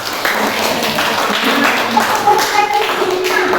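A classroom of students claps for a classmate, a burst of brisk, close applause with light taps and thumps, lasting a few seconds.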